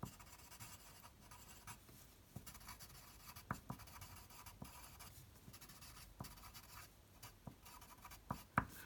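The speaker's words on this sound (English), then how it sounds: "Let me just write that down" Pen scratching on paper close up, a quiet continuous scribble broken by small taps and pauses between strokes, with no voices.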